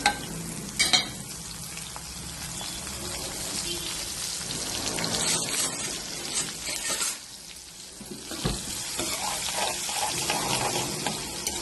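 Green chillies frying in hot oil with mustard seeds, cumin and asafoetida sizzle and crackle continuously in a pan, with occasional stirring clinks and spits, fairly soft and close.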